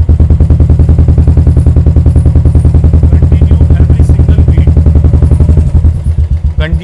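Royal Enfield motorcycle with a Swagman silencer rolling at low speed, a loud, close, steady single-cylinder exhaust thump in an even rapid beat that loosens into slower pulses near the end, no speech.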